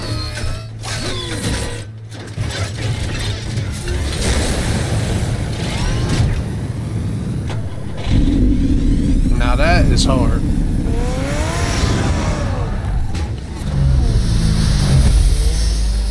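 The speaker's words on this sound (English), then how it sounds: "That was sweet. The whole car just transformed." Batman's car from Batman: The Telltale Series revving and mechanically transforming: a loud engine roar with whirring gears and clanking mechanisms that surge and shift midway, while someone speaks briefly over it.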